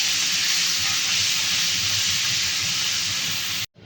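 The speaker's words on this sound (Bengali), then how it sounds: "চুনো মাছগুলো লাল লাল করে ভেজে দিবি" Small chuno fish fry in hot oil in a kadai, giving a loud, steady, close hiss that cuts off abruptly at the end, with no voices.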